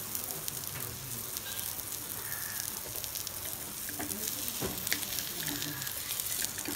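Green chillies and onions fry in a pan for a bread omelette, giving a continuous close sizzle with occasional scraping stir sounds and no talk.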